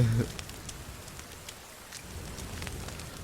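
Rain in The Forest video game falls as a steady, soft hiss with scattered drop ticks, after a brief voice cuts off at the very start.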